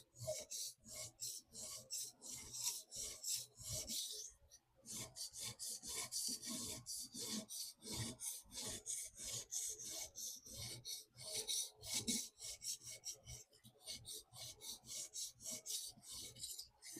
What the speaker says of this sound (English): we're getting the good out of this stone, and this knife is definitely sharpening up